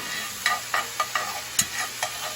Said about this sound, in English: So we've given the garlic a few minutes here just to kind of brown up a little bit.